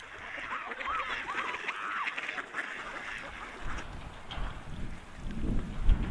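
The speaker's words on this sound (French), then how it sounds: "les canards colverts sont des habitants permanents de l'archipel" Mallard ducks quack repeatedly at a distance over a low outdoor rumble, the calls fading as wind-like noise rises toward the end.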